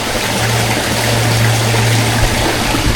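A river flowing steadily, a dense broadband rush of moving water with a constant low hum underneath, close and unbroken throughout, with no voices.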